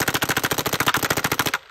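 A 2k2 Intimidator paintball gun fires a rapid burst of about twenty evenly spaced shots, a loud, close, machine-gun-like string of sharp pops that ends abruptly.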